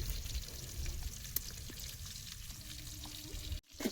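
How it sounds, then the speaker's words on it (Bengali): Rohu fish fry in hot oil with a steady, close, crackling sizzle that runs unbroken for a few seconds before a brief cut. "মাছগুলো ভাজা হয়েছে, তুলে নিচ্ছি।"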